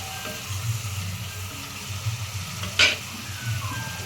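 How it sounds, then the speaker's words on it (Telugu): Ginger paste frying in a pan for mushroom masala curry, a continuous close sizzle with a low bubbling undertone and one sharp scrape of a spoon partway through, no voices. "వేసుకొని ఒకసారి బాగా కలుపుకొని అల్లం పేస్ట్ పచ్చివాసన పోయేంత వరకు ఫ్రై చేసుకోవాలి"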